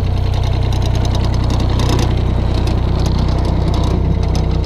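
A Thwaites 1T mini dumper's engine runs at a steady idle, with a loud, continuous low throb and a mechanical chatter throughout, and no talking.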